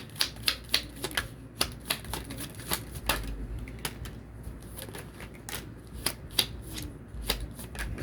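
Oracle cards are shuffled by hand close up, a quick run of crisp riffling snaps that keeps going in an uneven rhythm over a low background hum.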